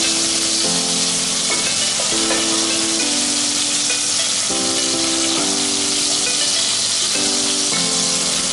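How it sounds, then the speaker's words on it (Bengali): Prawns fry in hot oil for a coconut prawn dish, giving a loud, continuous sizzle with repeated soft stirring scrapes. "মোটামুটি ভেজে মাছগুলো তুলে নেব।"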